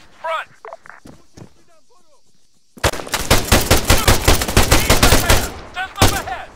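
Rapid machine-gun fire from the Arma 3 video game hammers in dense, loud sustained bursts for several seconds. It follows a quieter stretch of faint shots, footsteps and game sounds.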